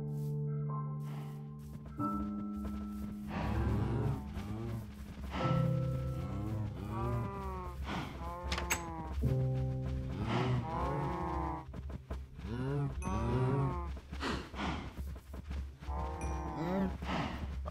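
Cows mooing in Minecraft, heard as repeated low drawn-out moos that recur at intervals, layered over constant game music with sustained tones.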